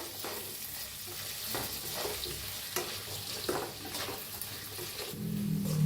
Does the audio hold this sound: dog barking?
no